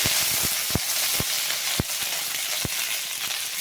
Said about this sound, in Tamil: எண்ணெய் வந்து நல்லா சூடாயிடுச்சு. கொஞ்சமாக சோம்பு போட்டுக்கிறேன். ஒரு கொத்து கருவேப்பிலை,